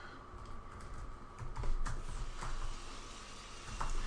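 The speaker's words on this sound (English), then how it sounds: "I am still just typing in my other window" Fingers type on a computer keyboard during a paused StarCraft match, a quick irregular patter of key clicks at close range with no talk over it.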